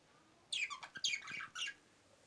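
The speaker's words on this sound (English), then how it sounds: "I washed my birds." Freshly washed pet birds give a quick run of high chirps and short squawks, a few bright bursts close by against a quiet background.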